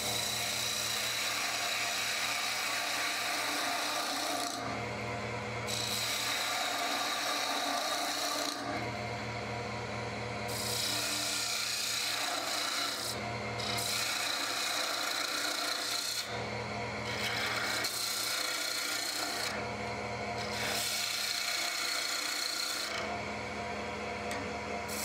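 A wood lathe gouge rasps steadily against spinning wood, cutting a bead in long scraping passes, broken by short pauses, with a constant motor hum underneath.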